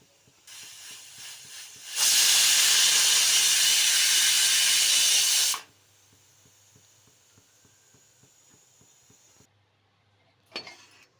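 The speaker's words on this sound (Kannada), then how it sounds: "ಒಂದು ವಿಸಿಲ್ ಆಗಿದೆ" A pressure cooker cooking gherkin gravy lets out a loud, continuous steam hiss for about four seconds, close by, then falls back to quiet with a faint clink near the end.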